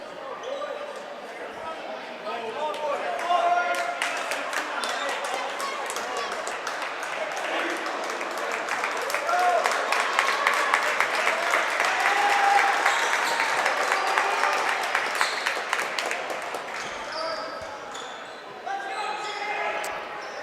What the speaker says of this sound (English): And a good crowd here enjoying this one here tonight.